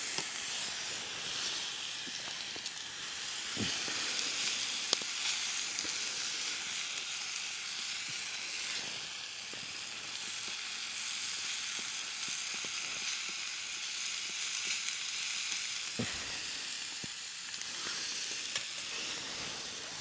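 Steak sizzles and fries on a stick stove under a tarp on the beach, a soft, continuous hiss with a few faint clicks and small pops, fairly quiet throughout.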